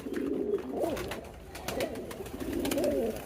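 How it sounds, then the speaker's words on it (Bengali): Pigeons at a pigeon farm coo close by in a few repeated, throaty rolling phrases, with no other sound competing. "এটা হচ্ছে চুল্লি কবুতরটা"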